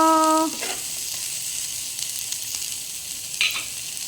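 Red pepper fries in a pan while being stirred, giving a soft, steady sizzle with a brief tonal sound at the start and a small clink or scrape near the end; no one speaks.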